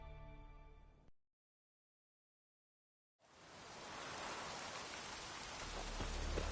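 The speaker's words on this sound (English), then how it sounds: "Raining fucking buckets." Heavy rain in The Witcher, a dense roaring hiss that cuts in after a tonal passage and a two-second silence, then builds steadily and stays loud with a deep rumbling low end.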